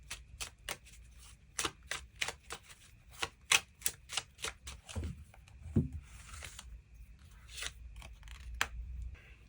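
Tarot cards are shuffled and drawn from the deck, giving a steady run of crisp, sharp snaps and flicks close by with no talking.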